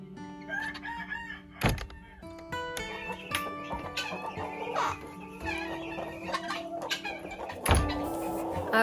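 Chickens and a rooster in a homestead coop, with clucking and cackling close by, a rooster crowing, and a couple of sharp thuds, all fairly quiet and steady.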